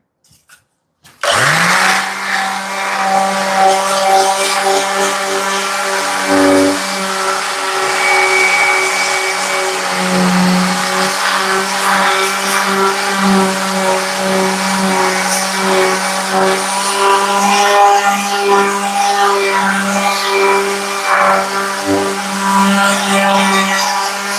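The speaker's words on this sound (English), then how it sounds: "once I put the sander on this once again, that this gets a little bit better" A power sander works over a surface during studio construction, running as a loud, steady motorized drone with a sustained hum throughout, its pitch wavering slightly as it moves, with no voices.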